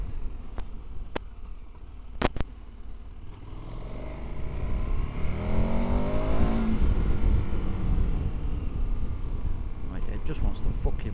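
A KTM 1290 Super Adventure S motorcycle winds up hard and close, its engine note rising steadily through the gears into a sustained loud roar, with wind buffeting and a few sharp clicks early on.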